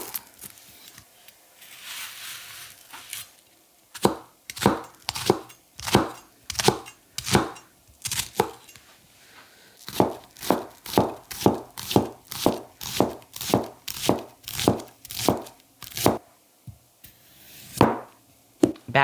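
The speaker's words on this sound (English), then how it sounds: "It then went from rough chopping to dicing a shallot for something like a beautiful, beautiful risotto." Oishya Seki Kyuba SHIN Kiritsuke knife dicing a shallot on a cutting board, a run of crisp, evenly spaced chops, quiet pauses between early strokes, then a faster steady rhythm.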